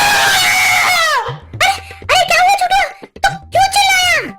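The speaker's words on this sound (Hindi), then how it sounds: "तुम क्यों चिल्ला रहे थे?" A person screams in long, high, wailing bursts, one sustained and then several shorter broken cries with brief gaps between them, loud and close.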